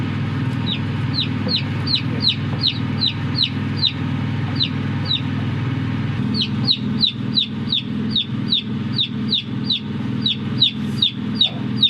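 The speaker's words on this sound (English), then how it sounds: "It's day 2 of hatching, and we've had 13 chicks hatch so far." Newly hatched chicks peep in a steady, regular run of bright, high chirps close by, over a low continuous hum from an incubator or brooder.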